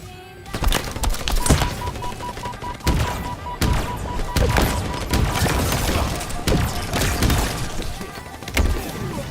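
Shotgun blasts boom in a first-person shooter video game, several sharp loud shots at irregular intervals amid busy game noise.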